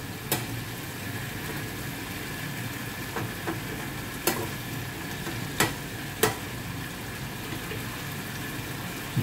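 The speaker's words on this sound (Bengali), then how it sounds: "চিকেনটা সেদ্ধ হচ্ছে।" Chicken simmering in a covered pan, a faint steady bubbling sizzle with occasional sharp clicks and taps from the cookware breaking through the quiet background.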